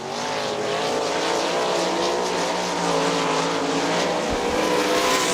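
410 sprint cars racing in a dash at Butler's dirt track during a Great Lakes Outlaw Super Sprints event, loud, sustained engine roar with rising and falling pitch as cars pass close by, with no talk.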